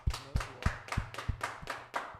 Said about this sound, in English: All right, Akim, let's go ahead and clap it up